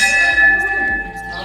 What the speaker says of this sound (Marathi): तो शैतानी घंटा वाजवला देवीचा.